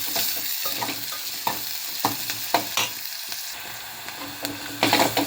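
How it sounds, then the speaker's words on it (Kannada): Crushed garlic and finely chopped onion fry in a pan with a steady, close sizzling hiss, broken by scraping stirs and a few louder spattering bursts near the end. "ಜಜ್ಜಿಟ್ಟಿಟ್ಕೊಂಡಿರುವಂಥ ಬೆಳ್ಳುಳ್ಳಿ, ಹಾಗೆ ಸಣ್ಣದಾಗಿ ಕಟ್ ಮಾಡ್ಕೊಂಡಿರುವಂಥ ಈರುಳ್ಳಿ ಕೂಡ ಹಾಕ್ಕೊಂಡು ಚೆನ್ನಾಗಿ ಫ್ರೈ ಮಾಡ್ಕೋಬೇಕು"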